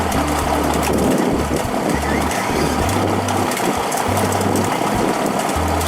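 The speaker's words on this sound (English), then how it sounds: "A hydraulic system is activated, pulling each rope from the seabed to the deck." Hydraulic machinery aboard a scallop boat hauls heavy ropes from the seabed onto the deck, giving a loud, steady mechanical drone with rhythmic low pulsing and clanking over wind and engine noise.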